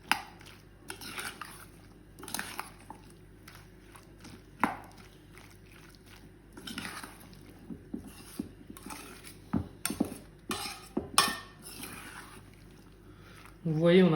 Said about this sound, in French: Donc là, on va mélanger tout simplement, délicatement, parce que la chair du poisson est quand même assez fragile.